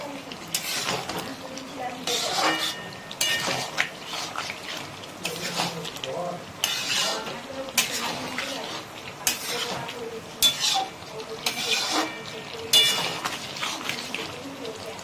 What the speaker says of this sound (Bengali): এটাকে ভালো করে মিক্স করে দেবো